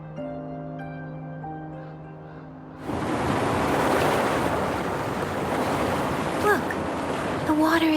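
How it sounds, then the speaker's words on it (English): In the game Wuthering Waves, water drains away with a sudden heavy rushing surge that cuts in after a few seconds of tonal music and keeps roaring steadily, with a few faint chirping accents near the end. "Water is going down."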